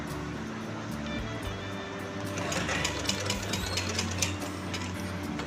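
A sewing machine stitches fabric in one continuous run, its steady mechanical whir close and even, rising slightly in intensity midway, with no talking.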